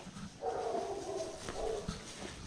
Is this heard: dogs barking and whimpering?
yes